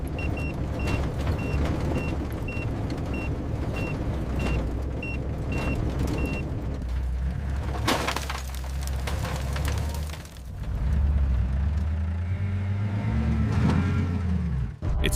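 Truck interior drone during a search for a missing young male lion, with steady low engine rumble and road noise throughout, a brief loud bump near the middle, then rising engine tones as the vehicle works on.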